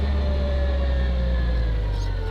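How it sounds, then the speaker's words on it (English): An old forklift engine drones with a heavy low rumble and steady whine, running continuously close by without voices. "It's not a tractor. It's an old ass forklift."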